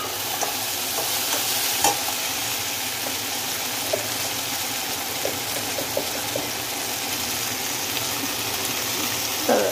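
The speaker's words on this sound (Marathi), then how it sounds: "हा टमाटर नरम होईपर्यंत त्याच्यामध्ये शिजवायचं आपल्याला।" Tomatoes frying in a pan as they soften while being stirred, steady close sizzling with soft scrapes and small clinks of the spoon through the whole stretch, no one speaking.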